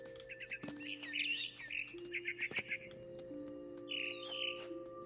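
A mama bird in the video game What Remains of Edith Finch, several bursts of bright, high chirps and tweets, fairly close, over a low hum with sharp ticks and clicks scattered between.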